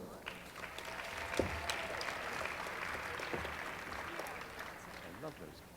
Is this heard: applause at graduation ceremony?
yes